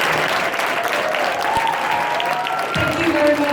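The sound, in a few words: audience applause for Elliot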